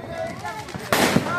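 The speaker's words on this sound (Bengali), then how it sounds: "সবাই কিন্তু বাজি ফাটাচ্ছে" New Year's Eve firecrackers burst outdoors amid a celebrating crowd, with a sharp loud crack standing out near the end over background chatter and scattered pops.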